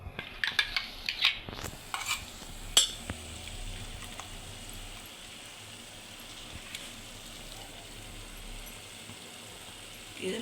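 A spoon stirs ground masala paste into a mushroom gravy base in a pan, with sharp clinks and scrapes against the metal at first, then a soft continuous sizzle.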